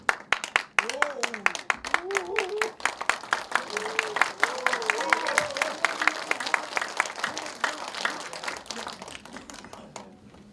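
A talk-show audience gives a long round of applause, dense clapping at close range and fairly loud, while a voice keeps speaking over the clapping for much of it before the applause thins out toward the end.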